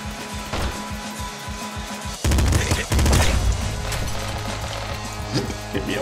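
Assault rifle fire in the video game Nuclear Throne, a burst of rapid shots that sets off a loud clattering volley of impacts and crashes over a thumping background track, with no talking.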